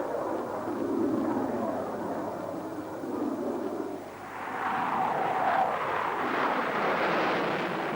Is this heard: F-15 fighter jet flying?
yes